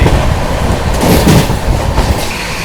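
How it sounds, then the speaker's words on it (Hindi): New Delhi–Jaynagar Swatantrata Senani Superfast Express passing close by, a loud rushing roar with rapid clickety-clack of wheels over rail joints throughout. "सामने से आ रही है न्यू दिल्ली जयनगर स्वतंत्रता सेनानी सुपरफास्ट एक्सप्रेस"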